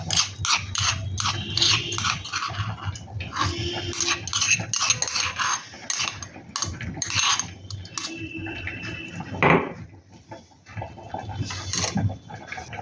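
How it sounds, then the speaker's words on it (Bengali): A thick spice paste for a young jackfruit curry is scraped and scooped into a bowl, with repeated sharp clinks and scrapes of a utensil against the dish in an irregular rhythm, close by and without talk. "এবার আমি এটাকে একটি পাত্রে তুলে নেব।"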